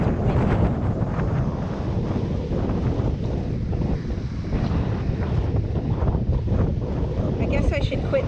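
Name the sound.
strong wind on a beach, wind noise on microphone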